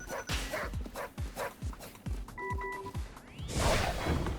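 A Silky Terrier in the Tokyo Jungle video game gives a rhythmic run of about eight short, sharp barks and yips, fairly close, followed by a brief electronic tone and a burst of noise.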